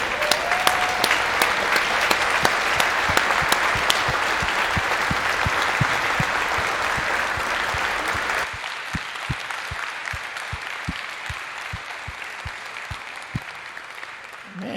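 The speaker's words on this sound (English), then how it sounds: "How about a standing ovation for what they've done to get here?" Standing ovation from a large audience at a pops concert, with dense sustained clapping and scattered louder claps, thinning slightly partway through but continuing steadily throughout.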